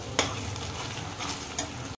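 Ground spice paste sizzles in hot oil in a kadai alongside whole garam masala and bay leaf for a vegetarian kadai paneer, with a steady close frying hiss and two brief sharper spits.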